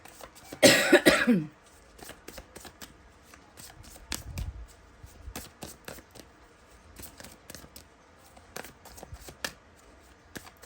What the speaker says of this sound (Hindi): चलिए इस डेक से भी हम कुछ कार्ड्स लेंगे